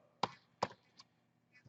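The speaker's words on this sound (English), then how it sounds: "So I'm going to type in here getInfo." A few sharp separate key taps on a computer keyboard while code is entered, close and clear, spaced unevenly with quiet pauses.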